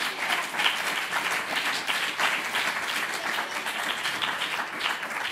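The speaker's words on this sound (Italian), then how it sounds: "che accogliamo con un applauso" Audience applause at an evening school music concert, welcoming a double bass player to the stage: dense, steady clapping from a hall crowd, sustained throughout without voices.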